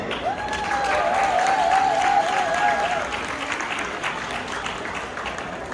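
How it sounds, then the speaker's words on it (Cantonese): An audience applauds to welcome saxophone player Vincent Chin on stage, a broad wash of clapping that swells and then softens, with a brief sustained saxophone-like tone sounding over it early on. "我希望大家可以用你哋嘅熱烈掌聲去歡迎我呢位非常之出名嘅音樂人 saxophone player Vincent Chin"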